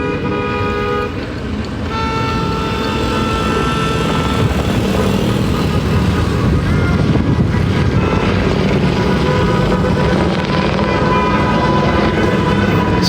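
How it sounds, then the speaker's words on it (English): A county police helicopter's steady rotor drone fills the air overhead, loud and continuous throughout, with a constant low rumble and no voices. "this is the county police helicopter"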